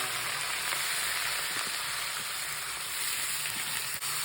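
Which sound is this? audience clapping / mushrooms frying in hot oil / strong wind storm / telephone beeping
mushrooms frying in hot oil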